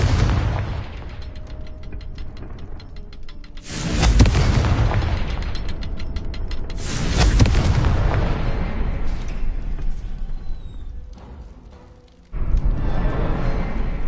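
Fire spell explosions in Hogwarts Legacy gameplay, two loud booming blasts a few seconds apart over a steady rumbling game soundscape, followed by a quieter stretch and a sudden return of background noise.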